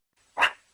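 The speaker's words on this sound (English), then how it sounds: "Meerkat." A single short, sharp meerkat call, a quick bark-like yip heard alone and fairly close.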